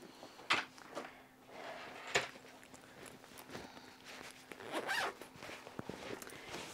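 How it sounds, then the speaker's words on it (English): A small zipper on a purse's inside pocket is pulled in several quick zips, close and fairly soft, with faint handling rustle between them. "Close that zipper."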